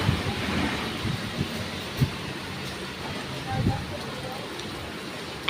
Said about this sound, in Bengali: দেখো কত বৃষ্টি, আমাদের বারান্দার মধ্যে জল হয়ে গেছে।